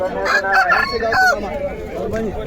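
A rooster crows loudly and close by at a livestock fair, its drawn-out call mixed with chicken clucking and a voice in the background.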